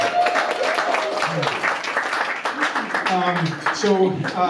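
Applause from a small audience at a house concert in one of Edmonton's oldest houses, steady clapping and cheering with voices mixed in throughout, fairly loud and close.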